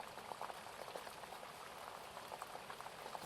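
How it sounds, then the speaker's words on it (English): Water boils in a pot on a stove, a faint, steady bubbling and popping that carries on softly and continuously with no voices. "As the water begins to boil, so you place spaghetti into that water"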